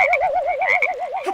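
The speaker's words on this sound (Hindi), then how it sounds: "कुंभकर्ण को उठाने मेंढक आ गया।" A frog croaks in a rapid, warbling trill that rises and falls in steady pulses, loud and close with no talking over it.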